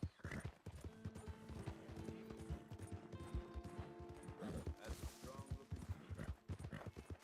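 A horse in the video game Red Dead Redemption 2 runs with rapid, rhythmic hoofbeats, loud and close, with game music and effects layered underneath.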